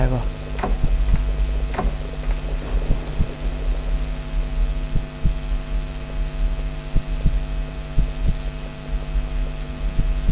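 In a video game, a slow, low thudding heartbeat repeats over a steady electronic hum, pulsing in pairs at a regular pace.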